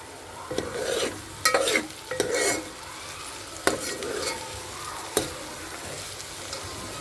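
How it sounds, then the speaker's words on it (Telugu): Onions fry in a pan for a Godavari-style prawn and raw mango curry, stirred with repeated scraping strokes over a steady close sizzle, with occasional utensil knocks and no speech. "సగం వరకు అయితే ఉల్లిపాయలు వేగినాయండి"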